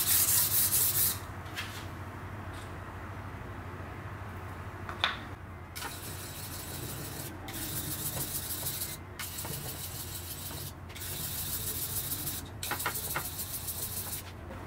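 A kitchen knife scrapes back and forth on a whetstone in soft, repeated strokes with brief pauses between them, quiet and close.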